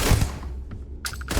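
Gunfire rings out in Starfield as a few quick shots crackle through a short battle, with a heavy opening blast followed by a tight burst of sharp reports near the end.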